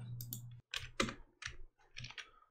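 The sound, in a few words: computer keyboard keys pressed for shortcuts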